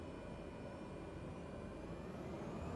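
Airplane engine in Microsoft Flight Simulator 2020 spooling up for takeoff, a steady broad low rumble and roar that holds loud and even throughout with no voices.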